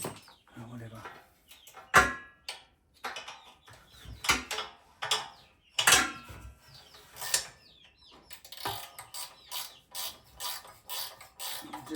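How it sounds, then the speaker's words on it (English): A ratchet spanner turning on a broken generator gives irregular bursts of mechanical clicking and creaking, close by, with pauses and a voice now and then between the strokes. "I do like my ratchet spanners."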